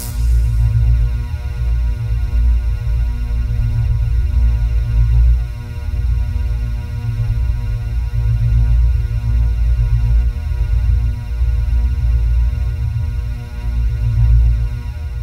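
A Milwaukee heat gun warms a bamboo canoe, giving a loud, steady blowing hum with a low throbbing drone that runs unbroken and close throughout, with no one speaking.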